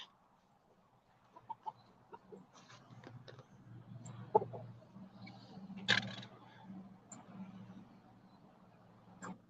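A rooster and chickens make scattered, faint clucks and short calls in a quiet outdoor setting, with a few soft knocks between them.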